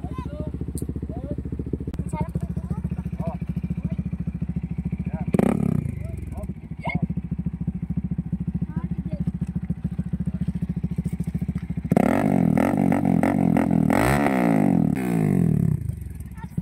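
A motorcycle engine rumbles steadily and close on a ride near Ermita Hill, Baler, with brief louder bursts and a rough roar building near the end; no clear speech is heard.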